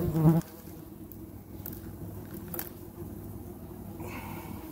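Yellow jackets buzz steadily around a large wasp nest during a nest removal, a close continuous insect drone with a brief louder rustle at the start and no voices.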